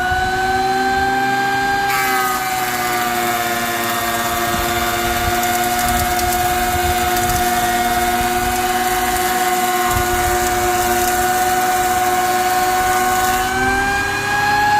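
A wooden 2x4 board being narrowed in a power planer gives a loud, steady motor whine with a constant cutting roar, close and alone, easing off at the start and end.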